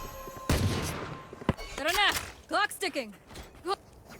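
Gunfire in Valorant, a burst of shots near the half-second mark followed by a single sharp crack, then chirping, sweeping electronic ability sounds, with talk running throughout.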